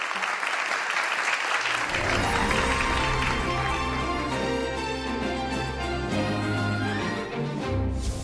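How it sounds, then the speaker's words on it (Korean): Audience applause at a copyright forum held at a broadcasting arts university, starting after a moment of quiet and swelling into steady, even clapping from a sizable seated crowd, with background music underneath. "여러분 박수 부탁드립니다."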